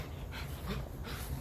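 A dog pants quickly and softly whimpers nearby, the breathy huffs coming in uneven bursts over a low background rumble.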